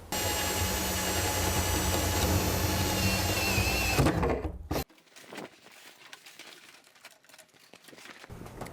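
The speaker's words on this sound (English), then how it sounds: "I just got to drill a pilot hole in through the side of the aluminum somewhere in here" A drill bores a pilot hole through the side of an aluminum panel during a MaxxAir roof fan install, with a loud steady grinding whine for about five seconds. It then cuts off abruptly, leaving quiet handling noises.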